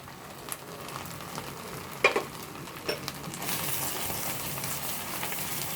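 Ground spices sizzling in hot oil in a frying pan while making yogurt chicken, a soft steady fry with a few sharp scrapes of stirring, then a brighter hiss as the sizzle builds.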